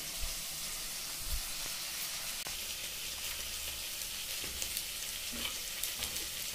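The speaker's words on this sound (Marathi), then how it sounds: "तोपर्यंत शिमला मिरची एकदम फ्राय होते।" Capsicum fries in a pan with a soft, steady sizzle, low in level, broken by a few faint clicks and taps.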